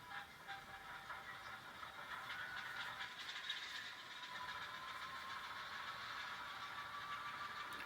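An N scale Alco S4 model diesel locomotive runs on a layout track with a steady, faint motor whine and light mechanical hum, continuous and even throughout, with no talking.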